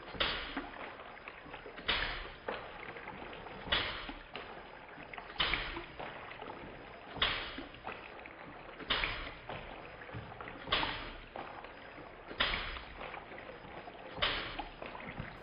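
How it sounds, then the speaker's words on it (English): Model steam water pump on a large model showman's engine, slowed down and lowered in pitch: about nine deep, evenly spaced exhaust chuffs, each a soft whooshing burst, repeating steadily at a slow, regular rhythm. "With the exhaust beats being in slow motion and dropped in pitch, it's very easy to hear just how even the beats are"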